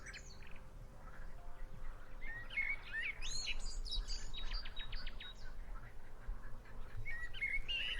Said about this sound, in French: Vous entendez beaucoup d'oiseaux différents.